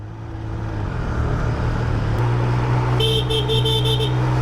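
A Triumph Speed Triple 1200 RS motorcycle horn honks several times in quick bursts over a steady engine rumble.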